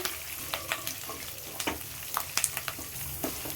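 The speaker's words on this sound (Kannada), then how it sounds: "ಈಗ ಇದನ್ನ ಚೆನ್ನಾಗಿ ಫ್ರೈ ಮಾಡ್ಕೊಳ್ಳೋಣ ಮೀಡಿಯಮ್ ಉರಿಯೊಳಗೆ" Dry chilli, ginger, green chillies and curry leaves fry over medium heat for khara bath, giving a steady low sizzle broken by scattered sharp pops and spatula clicks.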